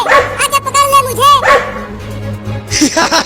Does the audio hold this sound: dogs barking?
yes